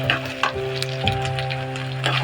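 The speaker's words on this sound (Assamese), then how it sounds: "যিহেতুকে এটা পানী নাঢালোঁ, তেলতে এনেকৈ ভাজি থাকিম।" Fermented dried fish frying in oil in a pan with no water added, a close sizzle with a few light crackles and a steady mid-pitched hum under it.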